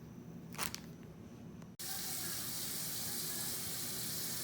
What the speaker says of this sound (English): So we're going to get some warm water and soak these husks.